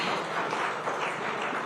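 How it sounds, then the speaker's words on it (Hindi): Audience applause from a crowd at a Rising Bharat Leaders event honouring Captain Vijayant Thapar, steady dense clapping from many hands, fairly distant and moderately quiet, with no talking over it. "जोरदार तालियां हो जाएं एक बार।"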